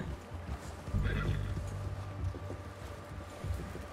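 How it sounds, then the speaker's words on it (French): A horse in Red Dead Redemption 2 whinnies once with a short, rising neigh, followed by soft hoof clops and low background rumble. "Petit cheval."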